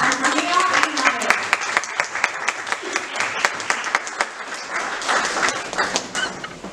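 An audience claps for award-winning presenters at an international business conference, a dense, steady round of applause heard up close.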